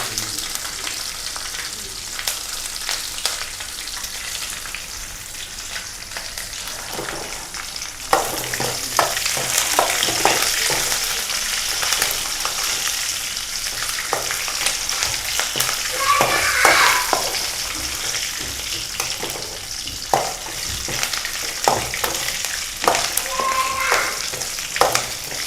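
Curry leaves and dried red chillies fry in hot oil as a tempering for Onam kalan, a steady crackling sizzle with occasional stirring and louder spits partway through, close up and without talk.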